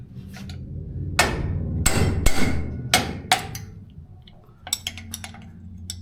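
Hammer blows on metal during work on a turbo LS engine, a series of sharp, loud ringing strikes in irregular rhythm, some close together, followed by a few lighter taps.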